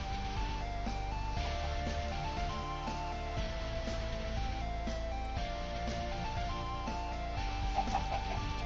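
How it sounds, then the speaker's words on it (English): Chickens clucking in the Minecraft video game, a steady layer of soft game-animal calls over constant background game audio, with no talking. "Chickens."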